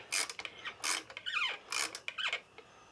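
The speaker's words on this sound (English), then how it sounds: "It's brass, so it taps real easy." A tap cutting threads into brass, scraping and rasping in short, uneven strokes with small squeaky metallic turns between them, close and clear against a quiet background.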